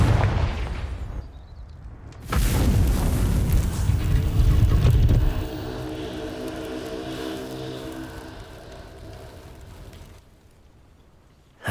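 Confringo, a blasting spell in Hogwarts Legacy, goes off as a loud, booming burst. Several seconds of rumbling follow, then a sustained ringing tail fades away.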